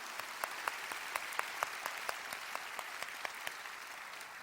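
A church congregation at a prayer and praise meeting applauds steadily, with sharp rhythmic claps standing out above a dense, somewhat distant wash of clapping.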